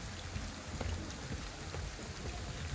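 Rain falling in Ghostwire: Tokyo, a faint steady patter and hiss of drops on surfaces with scattered individual splashes, continuous and quiet with no voices.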